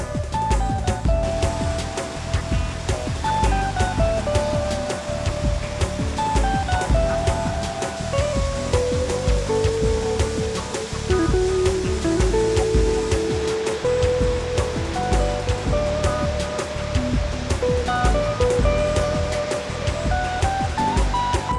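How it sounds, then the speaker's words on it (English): The Rogue River rushes past cascading waterfalls, a continuous loud broadband roar of flowing water that holds steady throughout, with a faint melodic tone drifting over it. "The trail to paradise follows the Rogue River past cascading waterfalls."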